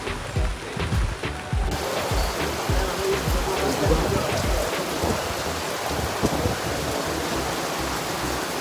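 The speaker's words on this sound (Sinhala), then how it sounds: "මාර බ්ලැස්ටක් වහින්න පටන් ගත්තා" Heavy rain pouring down in a steady dense wash that starts loud and keeps up throughout, with a possible low rumble of thunder and no talking over it.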